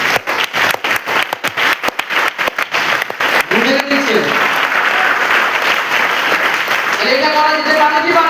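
Audience at a training seminar breaks into loud applause, a dense stretch of rapid clapping that keeps going, with voices rising over it toward the end.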